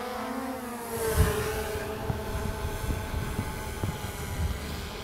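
A DJI Mavic 2 Pro drone lifts off and climbs, its steady buzzing whir of motors and propellers holding at moderate loudness with low rumbling and brief bumps underneath, no talk over it.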